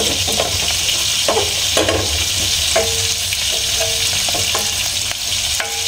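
Garlic fries in a pan with a loud, steady sizzle, and clicks and scrapes from stirring are heard up close.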